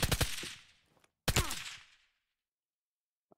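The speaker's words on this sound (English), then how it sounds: "Okay, just start shooting." Gunfire in the Krunker video game, two close, loud bursts of rapid shots, each trailing off into a short echo, separated by a brief gap and followed by near silence.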